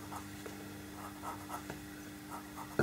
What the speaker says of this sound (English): Now I'm using sharp pencils for this